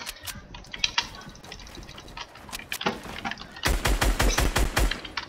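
Gunfire in a video game: sparse sharp shots and short bursts, then a loud, fast run of automatic fire near the end.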